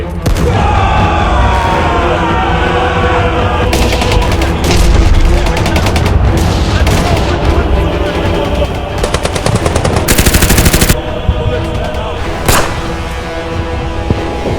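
Machine guns fire in a battle at Rezang La against Chinese forces: repeated loud rattling bursts mixed with booms, with one especially intense sharp burst near the end, close and dominant throughout.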